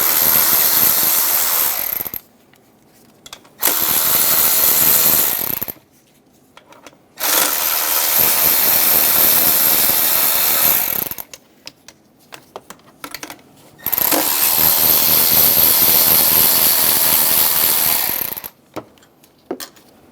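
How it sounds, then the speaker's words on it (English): A 12mm socket ratchet loosens throttle body bolts and nuts on a 2003-2007 Honda Accord, making loud rapid clicking in four long bursts separated by pauses, close and without talk. "Using a 12mm socket, remove the two bolts and two nuts for the throttle body."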